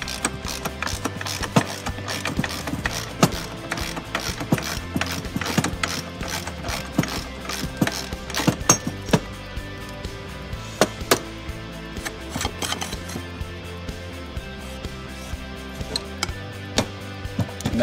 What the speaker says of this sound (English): Tightening the bolt till the bearing comes loose.